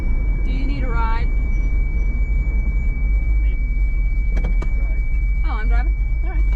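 Car driving onto a farm weigh scale during feed hauling, a steady low engine and road rumble throughout with brief voices and squeaky bursts over it.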